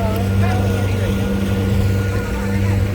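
A panga motorboat cruises along the San Juan River, its outboard engine droning loud and steady with a low hum and water rushing past close by.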